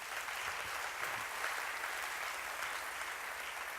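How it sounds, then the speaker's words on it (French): A church congregation applauds during a sermon with steady, dense clapping that carries on without a break, heard at a moderate distance. "Est-ce qu'on peut acclamer le Seigneur?"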